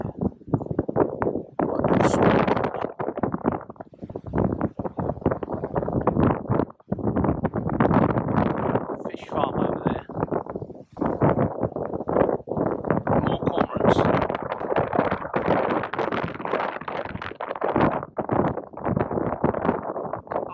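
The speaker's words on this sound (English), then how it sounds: "It is windy." Steady, heavy wind buffeting the microphone by a fishing harbour, with roaring gusts rising and falling continuously throughout, loud and close.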